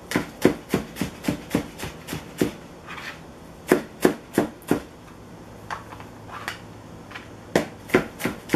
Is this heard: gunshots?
no